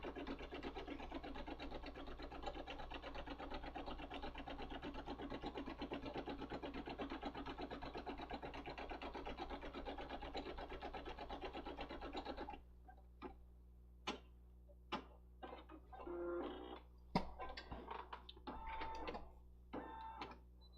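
An embroidery machine sewing the final stitch that holds the front and back of a project together, a dense steady mechanical chatter that stops midway, followed by sparse ticks and clicks.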